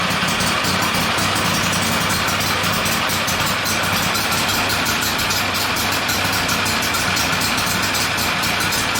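Husqvarna lawn mower engine running with the choke still on after sitting for a while, a loud, steady, close-up chugging rattle that holds without pause.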